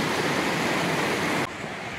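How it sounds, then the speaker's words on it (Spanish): A small stream of water falls beside stone steps at the Río Mundo springs near Riópar, a steady, loud broadband rush filling the scene, then dropping suddenly in level near the end. "qué chorrillo de agua cae"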